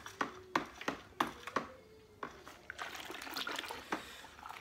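Beer wort being stirred in a plastic fermenter while brewing a juicy session IPA from a Mangrove Jack's kit: rhythmic sloshing strokes, then a steadier swirling churn of liquid, close and moderately loud.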